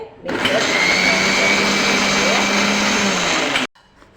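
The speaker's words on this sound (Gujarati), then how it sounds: "આપણે આને મિક્સર ગ્રાઇન્ડ કરી દઈએ છીએ" A mixer grinder blends pani puri water ingredients, whirring loudly and steadily for about three seconds, starting abruptly and cutting off sharply, with a high motor whine over the churning blend.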